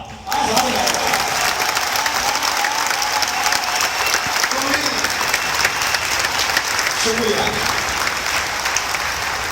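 A large crowd at a Hindi poetry recitation by a poet bursts into loud, sustained applause that carries on evenly to the end, with a brief word of thanks spoken near the start and faint voices under the clapping.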